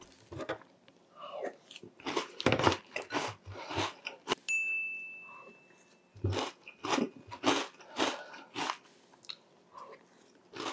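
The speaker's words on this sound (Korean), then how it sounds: "미츠 시리얼 제 돈 주고 먹고 싶어도 안 파니까 이렇게 사와서 먹고 있습니다." Someone chews Mitsu cereal up close, with loud crisp crunches in irregular bursts and brief pauses between mouthfuls, plus one short high ding partway through.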